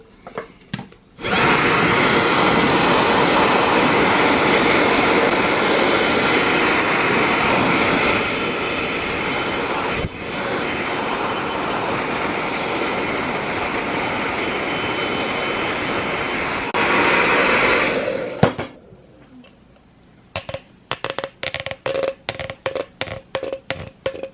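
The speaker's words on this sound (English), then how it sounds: "I'm going to use a hairdryer because I don't have a hot air gun" Hair dryer blowing on full heat while working on an N54 engine catch can install, a loud, steady roaring whoosh that runs about seventeen seconds with a dip partway, then cuts off, followed by a few scattered clicks and knocks.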